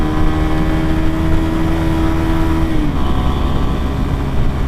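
A 2016 Suzuki Satria FU FI fuel-injected motorcycle during a drag test, its engine a loud, steady, close roar whose whining tone drops abruptly near the end as it keeps pulling.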